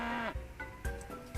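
A large rampaging cow in the farming game Peachleaf Valley lets out a loud, drawn-out moo, followed by short bursts of game sound effects.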